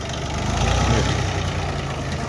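An old Japanese four-wheel-drive tractor engine runs at a steady idle, a loud, close, continuous diesel chug with a rough knocking rhythm and no voices over it.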